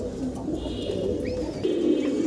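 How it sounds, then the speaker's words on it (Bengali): Kashmiri racer pigeons coo softly and steadily at close range, a low burbling murmur running throughout with a few faint chirps above it and no talking. "আরও এক জোড়া সুন্দর রেসার কবুতর দেখাচ্ছি। এটা হল বললেন ভাই কাশ্মীরি রেসার।"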